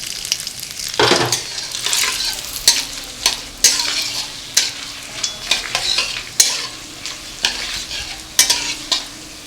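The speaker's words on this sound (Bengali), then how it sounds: "তেল গরম হয়ে গেছে, এবার ফোড়নগুলো দিয়ে দেবো।" Bay leaves, black and green cardamom, cloves and cinnamon crackle in hot oil for chicken tehari, a loud, close sizzle punctuated by regular sharp spoon knocks and scrapes against the pan.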